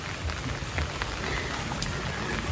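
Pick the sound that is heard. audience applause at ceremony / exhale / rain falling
rain falling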